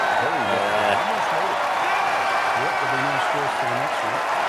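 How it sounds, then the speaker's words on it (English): A golf video game crowd, EA Sports Rory McIlroy PGA Tour, roars in steady loud applause and cheering throughout, while a voice talks over it. "This crowd's going absolutely nuts."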